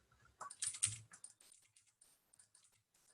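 Someone types quietly on a computer keyboard that has stopped registering inputs, producing scattered bursts of crisp keystroke clicks with a denser flurry early on and sparser taps after.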